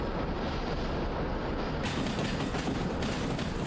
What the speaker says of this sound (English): Let's use dynamic brake.